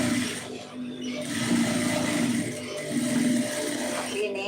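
A sewing machine runs steadily while stitching the neck of a blouse, a continuous close mechanical hum with a faint rhythmic whir throughout.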